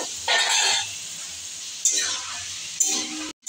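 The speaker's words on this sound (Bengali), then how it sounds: "এটা আমি হালকা ফ্রাই করে নেব" Chicken pieces lightly frying in oil in a pan for a makhmali chicken curry, with short bursts of hissing sizzle between quieter stretches of steady frying, plus a faint clink of utensils.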